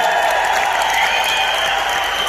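Audience applause at a motivational business-association talk, a continuous, even roar of many people clapping with a steady sustained tone running beneath it.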